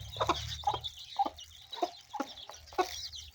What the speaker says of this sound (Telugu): నేను కోళ్ళకు బియ్యం వేస్తుంటే